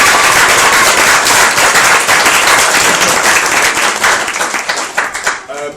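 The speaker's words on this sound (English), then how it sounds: "So they all need a round of applause." Sustained, dense applause from wedding guests honouring the parents during the speeches, loud and steady throughout before thinning out near the end.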